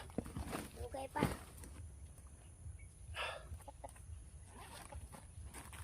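A chicken clucks a few times at close range amid quiet outdoor ambience, with people talking softly around it.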